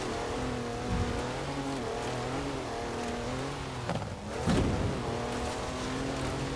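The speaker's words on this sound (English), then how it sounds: "We're going up this super steep hill at like 45 miles an hour." An off-road vehicle engine drones steadily under load climbing a steep hill at about 45 mph, with a brief rev surge and rattling bumps partway through; no voices.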